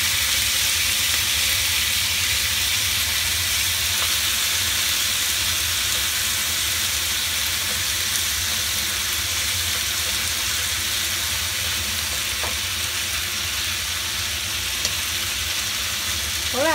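Chicken pieces slowly frying in a pan until golden, making a long, even, close-up sizzle with a faint hiss of steam and occasional small crackles, with no speech.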